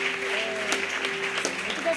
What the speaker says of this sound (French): Acclamez pour cette jeune dame.